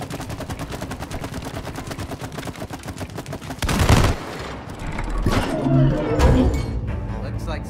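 Rapid gunfire from a weapon in the video game It Takes Two, a steady stream of evenly spaced shots for several seconds, then heavier bursts, with voices talking over it.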